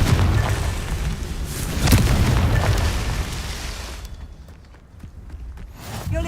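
A Confringo explosion spell in Hogwarts Legacy, heavy booming blasts with a big impact near two seconds, then a rumbling tail that fades toward quiet before a brief sharp burst at the end.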